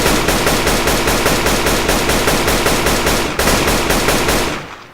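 Rapid automatic gunfire from the video game Rust rattles in a loud, steady burst of evenly spaced shots, briefly breaking and resuming before trailing off at the end, with no talking.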